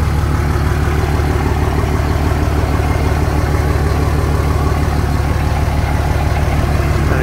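A 2006 Dodge Ram 2500 with a 5.9 Cummins diesel and a turbo-back exhaust idles loudly and close up, giving a steady, rumbling low drone with an even clatter throughout.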